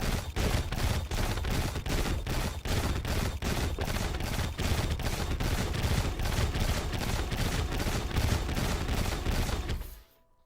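Ranged weapon fire from modded Terraria, a fast steady stream of evenly spaced shots repeating for about ten seconds and then stopping abruptly, with no talking.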